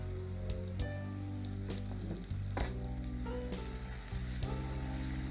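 Masala spices frying in a pan, a dense close sizzle with sharp stirring scrapes and occasional clacks, over a steady background hum, with no one talking.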